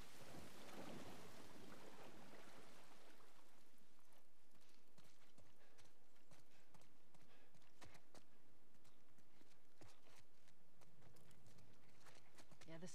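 Rain and thunder in The Last of Us Part 1 on PS5: heavy rainfall with rolling thunder swelling at the start and end, voices talking briefly amid the storm.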